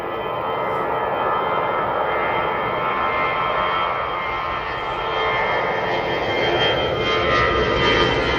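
A Lufthansa jet airliner departing Manchester Airport gives a steady, loud engine roar that holds for the whole stretch, broad and constant with no voices.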